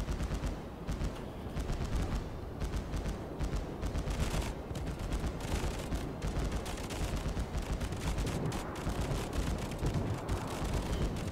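Anti-aircraft guns blazing in World of Warships aboard the battleship New Mexico, a sustained rapid chatter of autocannon fire with steady rhythmic bursts throughout, loud and unbroken, no voices.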